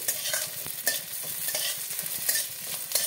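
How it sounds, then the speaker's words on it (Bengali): Sliced onion and green chilli fry in a little oil for a spinach dish, giving a steady close sizzle broken by a few sharp scraping stirs. No one speaks. "দিয়ে দেবো পেঁয়াজ আর কাঁচা লঙ্কা কাটা। পেঁয়াজটাকে একটু লাল লাল করে ভাজবো।"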